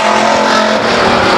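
Race cars at Stockton 99 Speedway roaring down the backstretch in a 1999 race, a loud, dense, sustained engine drone of several cars together at close range, with a hint of tire noise.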